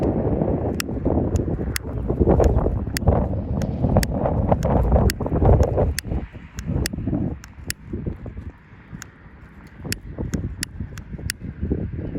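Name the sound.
wind blowing outdoors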